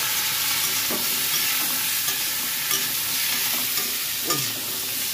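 Bitter gourd, pumpkin and other vegetables frying in a pan: a constant close sizzle with occasional soft stirring knocks throughout.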